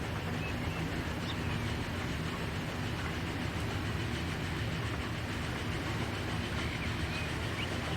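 Steady locomotive train rumble from Transport Fever 2, hauling up a hill: a continuous low engine drone with rail noise, even and unbroken throughout, with no talk.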